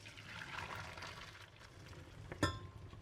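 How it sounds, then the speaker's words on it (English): Pasta water poured out of a pot, a faint, soft splashing stream in a kitchen, ending with a brief clink of the pot. "I'm gonna pour out the water here."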